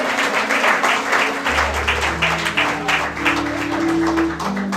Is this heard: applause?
yes